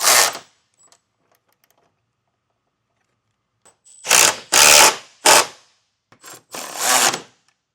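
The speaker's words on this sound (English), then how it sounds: "It's a 16mm socket, and I'll use a 15mm wrench to hold on to that nut." A ratchet with a 16mm socket, a 15mm wrench holding the nut, tightens pinch weld bolts on running board brackets. It gives one short burst of clicking, then a long quiet gap and several loud ratcheting bursts close by, with no talk.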